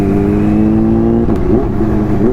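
A Kawasaki Ninja H2 motorcycle engine revving while being ridden, loud and close, with a steady drone that breaks into a quick rising rev partway through.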